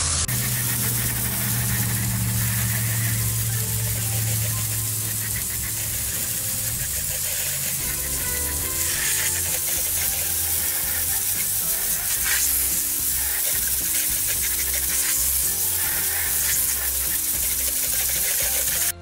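Water sprays onto a car wheel, rinsing off wheel cleaner in a loud, sustained hiss that runs the whole time, with a low engine-like hum early on.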